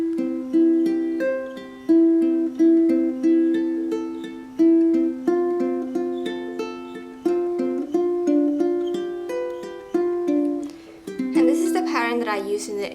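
A ukulele is fingerpicked in a repeating pattern of plucked notes, clear and close, each phrase restarting on a strong low note, played alone without talk before ending in a brief strum.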